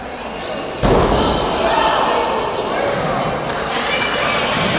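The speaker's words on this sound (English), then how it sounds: "Slamming a man's head into the ring." In a wrestling ring set up in a basketball gymnasium, a wrestler's head is slammed into the mat with one sharp, heavy thud, followed by a sustained crowd roar and commentary.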